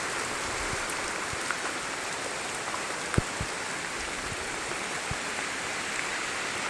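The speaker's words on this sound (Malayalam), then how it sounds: "നല്ല മഴ പെയ്യുന്നുണ്ട്" Heavy rain pours steadily at a hill station in Kerala on a foggy, darkening evening, a dense continuous hiss with a few louder drips and taps close by, no voices.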